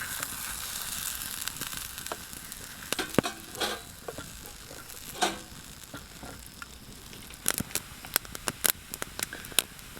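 A Spam breakfast skillet frying in a pan gives a steady, close sizzle with scattered pops and crackles throughout, no voices.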